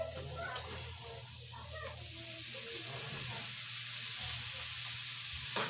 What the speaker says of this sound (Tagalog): Igisa natin